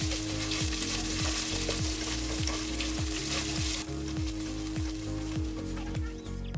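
Ginger garlic paste and chopped green chillies sizzling steadily in hot oil, a constant dense frying hiss with regular scraping stirs through the whole stretch, loud and close.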